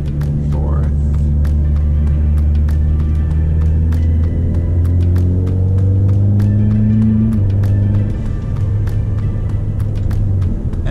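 A Ford Mustang S550 climbing a hill around a bend near 3,000 RPM, a loud interior engine drone whose pitch rises and steps as gears are paddle-shifted, with steady road rumble beneath.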